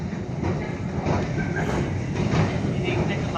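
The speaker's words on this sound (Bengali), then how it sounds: "সরাসরি আমরা এখন মেট্রোর ভিতরে আছি।" Steady rumble and rattle inside a moving metro train in Saint Petersburg, Russia, continuous and fairly loud throughout with faint voices mixed into the carriage noise.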